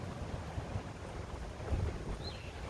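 Wind blowing hard outdoors and buffeting the microphone, a continuous low roar with uneven gusts throughout, loud and alone without any voices.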